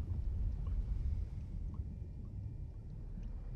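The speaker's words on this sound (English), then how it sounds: "the diesel engines have stopped" Inside a World War II U-boat in Silent Hunter 3, the diesel engines winding down to a low rumbling hum as the electric motors take over, a steady deep drone with faint watery gurgles.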